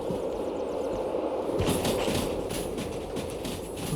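A locomotive in the railway game Derail Valley rolls past, a steady low mechanical rumble that swells into denser rattling and clacking partway through.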